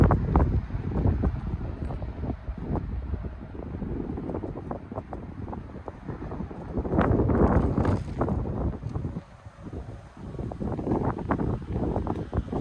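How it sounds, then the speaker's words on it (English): Strong gusty wind buffets the microphone in a steady broadband roar, with louder rushes swelling and fading throughout. "windy as hell"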